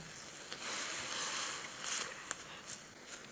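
Pad Ka Pao ingredients sizzle in a pan over the heat, a steady bright hiss that holds throughout with a few faint ticks and pops near the end. No one speaks.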